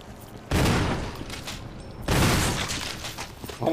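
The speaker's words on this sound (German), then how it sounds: "Warum hat der 2 Schüsse gebraucht?" Gunfire in the video game Resident Evil HD, two loud booming shots about a second and a half apart, each with a lingering decay over a quiet background.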